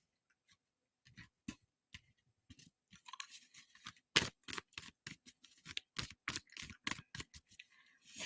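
Playing cards shuffled by hand during a live stream, a quiet start building into a run of sharp, crisp riffling clicks and snaps in quick irregular bursts, close and fairly loud with no talk.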